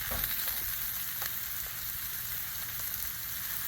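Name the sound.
bean sprouts sizzling on a Blackstone griddle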